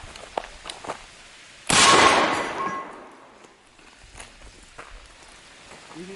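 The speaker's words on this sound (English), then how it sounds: "Let's go ahead and test the shotgun. 12 gauge buckshot." A single 12 gauge buckshot shotgun blast fired at a target outdoors, one sharp loud report that rings out and decays over about a second, followed by quiet ambient rustling.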